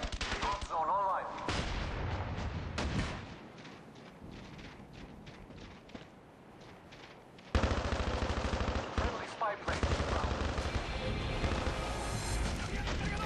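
Rapid-fire automatic gunfire from a rifle with a long barrel in the shooter game Call of Duty Black Ops Declassified, loud dense bursts in two long stretches separated by a quieter gap with scattered shots.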